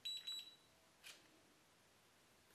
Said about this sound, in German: Und wie ihr hört, es piepst schon ganz fleißig.